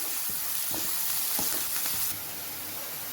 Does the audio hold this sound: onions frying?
yes